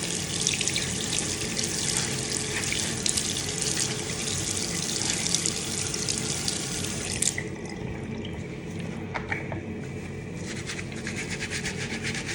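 Water runs steadily from a tap while hair is wetted, a loud close gushing and splashing that softens midway as the flow is partly blocked, with occasional dripping.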